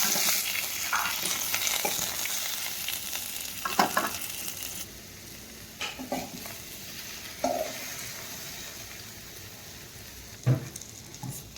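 Tomatoes frying in a pan with a soft crackling sizzle, strongest at first and then quieter, broken by several distinct stirring scrapes and knocks, close up and with no talking.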